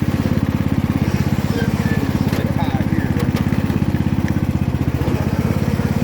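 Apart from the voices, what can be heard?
riding lawn mower engine running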